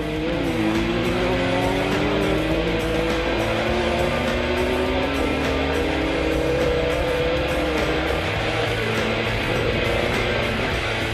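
Ford Escort rally cars race through a forest corner at the 1998 Toshiba Rally, their engines howling and shifting pitch as they brake and accelerate, loud and close throughout.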